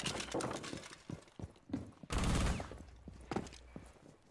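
Glass shattering in a first-person video game, a sudden loud broadband crash with scattered impacts and gunfire-like bursts around it, under muffled background talk.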